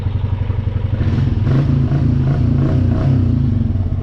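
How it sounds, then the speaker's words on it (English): Riding a 420 ATV produces a steady, close engine and exhaust hum with a rhythmic, slightly clattering pulse that stays loud and even throughout, with no talk over it. "Especially just when the exhaust is on there and you hear it humming."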